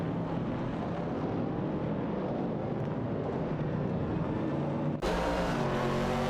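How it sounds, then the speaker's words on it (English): Engine drone from racing cars in a video game, a 1970 Pontiac Firebird and a 1969 Chevrolet Camaro, a dense steady roar that holds constant and then shifts abruptly near the end. "Street 4NBZH is piloting a Pontiac Firebird 70 while Komodo 3K maneuvers a Chevrolet Camaro"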